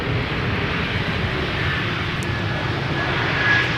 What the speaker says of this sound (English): quickly back for the first landing of AJet. A321neo